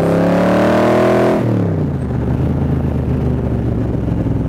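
A 1965 Shelby Cobra replica by Superformance revs loudly and close, its engine note dropping as it shifts gears, then holding a steady throaty drone.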